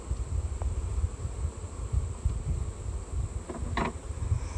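Honeybees hum steadily in a low, close buzz during an inspection of a brown hive on a hill, with a faint brief rattle near the end; no talking.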